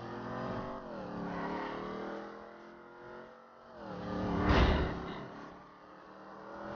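A car's engine revs and drones steadily inside the GTA 5 video game, rising to a louder surge midway before settling back into a steady hum.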